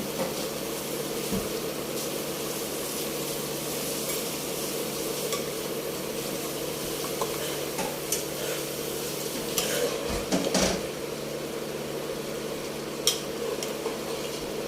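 Food cooked with butter sizzles steadily in a frying pan while a utensil stirs it, giving a continuous close frying hiss broken by occasional scraping clicks against the pan.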